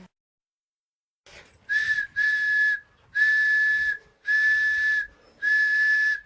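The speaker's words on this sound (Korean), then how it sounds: "굵기와 길이, 재료에 따라 다양한 소리가 나는 호루라기" An elderly craftsman's handmade whistle shrills five times after a moment of silence, each a steady, piercing blast of a second or so, loud and close with short gaps between.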